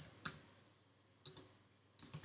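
A few isolated key presses on a computer keyboard, crisp and close, separated by pauses in an otherwise quiet room.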